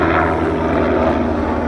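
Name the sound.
Mount Everest tour helicopter flying overhead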